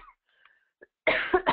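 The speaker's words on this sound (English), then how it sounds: "Excuse me, I've got a little cough." A man coughs during an online demo training call: a short, close burst of two or three rough coughs after a brief quiet pause.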